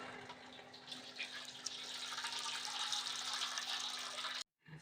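Water poured out of a cooking pot after boiling moringa flowers, a steady close splashing stream that runs for about four seconds, then stops abruptly.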